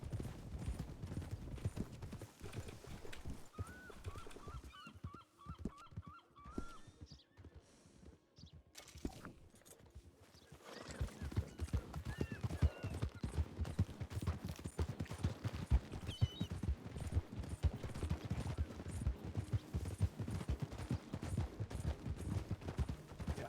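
Hooves clip-clop steadily on the ground from horses in the RedM video game, quiet and continuous with a brief lull midway before the trotting grows busier again.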